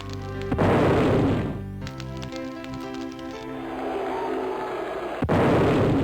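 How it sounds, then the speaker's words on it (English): Loud, layered explosions in SimCity 2000 rumble and crash in overlapping booms during a city disaster, with a sustained roar and a fresh blast near the end. "So many explosions."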